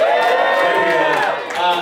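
Comedy club audience at Reds cheering and whooping for the headliner, a dense, loud crowd roar of shouts and applause sustained throughout, dipping briefly near the end before swelling again.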